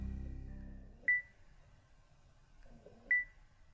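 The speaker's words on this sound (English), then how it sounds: "It could be that the focus system sounds like this." Two short electronic focus-confirmation beeps from a Leica Q camera, spaced about two seconds apart, each a clear high tone that fades fast over a quiet background with no talk.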